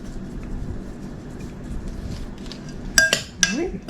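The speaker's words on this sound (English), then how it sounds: "get that all stirred up in there" Spoon stirring a bruschetta mix of tomato and basil in a bowl, soft scraping under faint background noise, then a few bright clinks of utensil against the bowl near the end.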